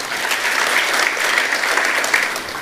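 A church congregation breaks into loud, dense applause during a worship service, many hands clapping evenly and continuously without pause.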